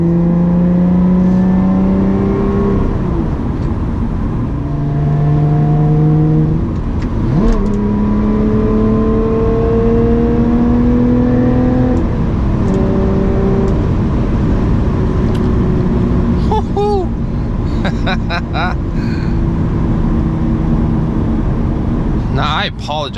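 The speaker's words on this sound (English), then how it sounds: "You hear the supercharger wind up as well when you get on the throttle." A supercharged V6 in a Lotus Evora 400, driven in race mode, climbing through the revs in long repeated pulls with shifts between them and a rising whine on top, loud and close throughout.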